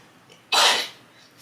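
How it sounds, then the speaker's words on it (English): A single sharp human sneeze bursts out once, close and fairly loud, fading quickly into a quiet room. "excuse me, I had to sneeze."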